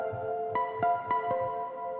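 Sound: muted high ukulele one-shot sample in a MIDI kit

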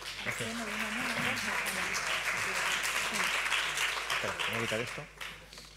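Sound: applause

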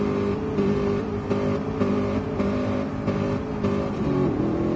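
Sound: race car accelerating away at launch

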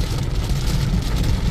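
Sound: heavy rain on a car while driving

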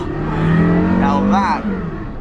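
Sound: Porsche Carrera GT drifting

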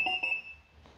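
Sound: electric scooter beeping

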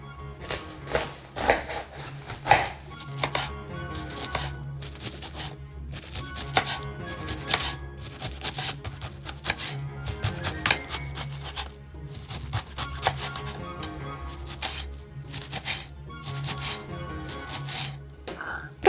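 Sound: chopping cabbage with a knife

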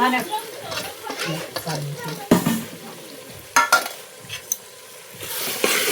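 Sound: onion frying in a pan

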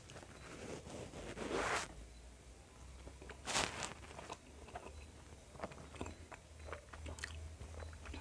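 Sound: eating idli with chutney, chewing sounds

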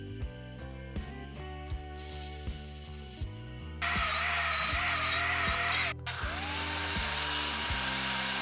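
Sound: drilling holes through metal strapping

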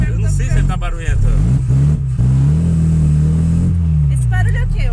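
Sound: Chevrolet Chevette car engine running

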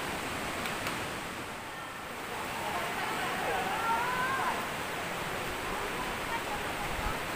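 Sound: Tumpak Sewu waterfall, heard from its base

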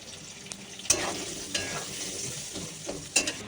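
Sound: potatoes frying and being stirred in a wok

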